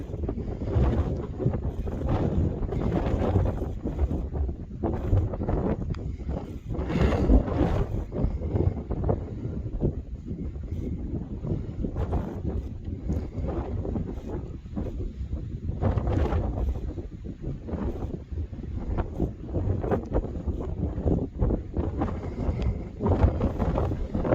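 Strong wind buffets the microphone continuously on the Appalachian Trail, a loud low roar with gusting surges throughout and no voices.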